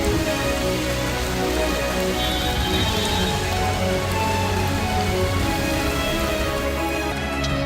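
Heavy monsoon rain pours down steadily across Mumbai, a dense, loud, unbroken hiss of drops hammering surfaces with no voices over it.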